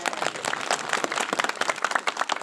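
Audience at an Islamic sermon applauding for Sumedang, an uneven patter of scattered hand claps from a crowd, moderately loud and irregular, rising and falling, with no speech.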